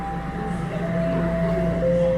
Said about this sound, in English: Just about to board a southbound train here on line 1.